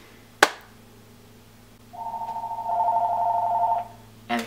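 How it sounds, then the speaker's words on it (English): A telephone rings with a single steady electronic buzzing trill lasting about two seconds, preceded by a sharp knock and followed by a click, in a quiet room. "And the phone rang."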